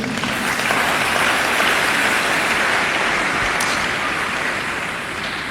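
A church congregation claps together in a loud, dense, sustained round of applause that holds steady for several seconds before easing slightly at the end.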